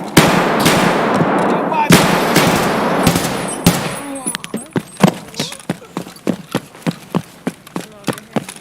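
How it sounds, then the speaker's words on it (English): Gunfire in an online shooter game, dense rapid shots at first, then a steady run of evenly spaced single cracks, loud and close, with players talking in between. "Scav, always shooting at me."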